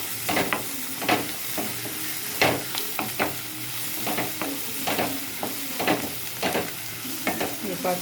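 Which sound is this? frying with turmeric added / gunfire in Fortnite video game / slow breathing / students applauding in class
frying with turmeric added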